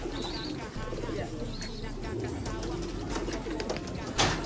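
Pet pigeons coo softly and repeatedly at close range, with chirps and a brief flutter near the end, under a steady outdoor background and people talking.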